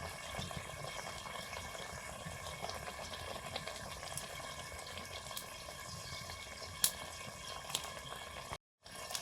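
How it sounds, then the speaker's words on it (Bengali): Fish curry broth at a steady boil in a pot, a continuous soft bubbling hiss with faint clicks, fairly quiet, and a brief drop near the end. "ঝোল ফুটে গেছে এবার মাছ দিয়ে দিচ্ছি"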